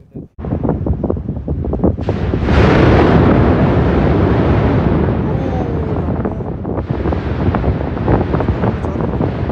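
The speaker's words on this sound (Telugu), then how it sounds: "భూమి టెంపరేచర్ బట్టి బాంబు పేలినప్పుడు లావా బయటకు వచ్చి చింపుతుంది, పొగలు వస్తాయి" Mount Yasur volcano in Vanuatu erupts close by with a sudden loud explosive blast that swells into a sustained roaring rumble, following faint crackling and wind buffeting on the microphone.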